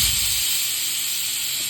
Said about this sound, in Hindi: जब तक कुकर में सीटी आ रही है